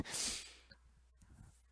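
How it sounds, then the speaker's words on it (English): One quick, breathy sneeze from a person allergic to cats, faint and close, followed by soft breathing. "you got to hear me sneeze"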